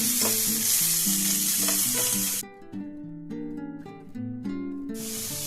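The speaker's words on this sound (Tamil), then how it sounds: "அது கூட வாழைத்தண்டையும் போட்டு நெய்யில் நல்லா வதக்கிக்கலாம்" Banana stem sautéing in ghee with cashews, raisins and cardamom gives a loud, steady sizzle over background music. The sizzle drops out briefly in the middle, then returns.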